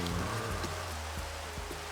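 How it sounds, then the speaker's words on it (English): Rain in the Minecraft video game with a shader pack, a steady hiss of falling drops pattering close and even throughout, with no talking. "oh, it's starting to rain"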